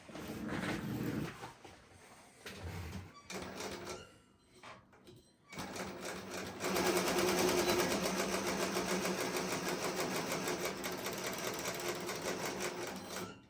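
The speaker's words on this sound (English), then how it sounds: "I will now give you a small demonstration on how this machine sews." A Global WF 1335 single-needle cylinder-arm walking foot sewing machine stitches with a steady, fast mechanical whir, starting in short stop-start bursts before settling into a continuous, loud run.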